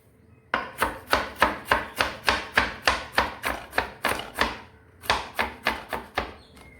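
A knife rapidly and roughly chops an onion for salad on a board, about twenty crisp, evenly spaced strokes, a brief pause, then several more, close and clear.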